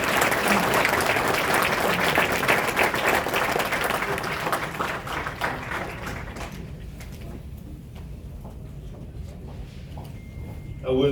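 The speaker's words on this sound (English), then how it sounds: "Please give General Mohan a big round of applause." An audience at an AUSA keynote applauds Lieutenant General Mohan of the US Army, a dense, steady round of clapping that gradually thins and fades away.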